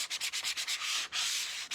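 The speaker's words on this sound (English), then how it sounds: "I'm going to take some sanding block, give it just a light sanding" A sanding block lightly scuffs a thrifted vintage tray, about seven quick rhythmic strokes followed by a longer steady rub, close and clear with no talking.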